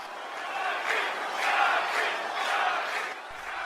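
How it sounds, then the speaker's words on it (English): A wrestling crowd at a live event in Greensboro, North Carolina roars and chants loudly and continuously, with swelling rhythmic waves of voices filling the arena. "A very vocal portion of this crowd favoring Shotzi Blackheart"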